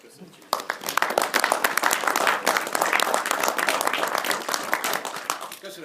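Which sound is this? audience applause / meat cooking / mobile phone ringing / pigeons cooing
audience applause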